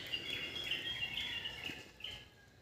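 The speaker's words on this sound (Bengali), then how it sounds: "সেই পাখির ডাকগুলো এখনও শোনা যায়।" Birds chirp at dawn on a dark winter morning, with bright repeated high calls in bursts over a soft, steady outdoor background.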